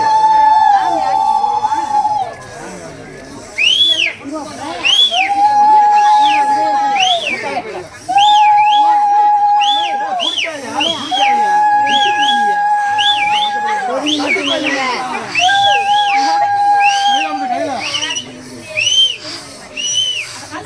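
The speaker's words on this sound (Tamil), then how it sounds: "அடி அடி விசில் அடி." A person whistles outdoors in repeated sustained tones and rising-falling phrases, several bursts over about twenty seconds, with other voices talking in the background.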